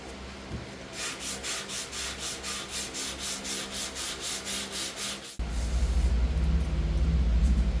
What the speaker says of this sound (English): I'm going to let the sandpaper do the work here. And I'm just lightly sanding the surface.